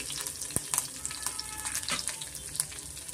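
Cumin and mustard seeds sizzle and pop in hot oil, a close, steady crackle dotted with sharp little spits and a few stirring clinks.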